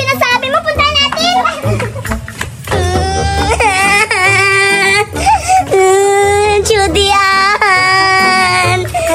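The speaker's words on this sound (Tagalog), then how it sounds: "Umiiyak siya." A child cries loudly and continuously, wailing and sobbing close by with rising and falling pitch, mixed with other voices and background noise throughout.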